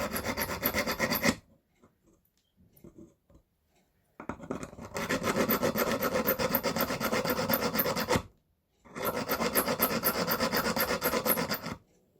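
A needle file scrubs back and forth on metal pendant tabs, close and crisp, in three long bursts of rapid rasping strokes separated by pauses with faint handling noises.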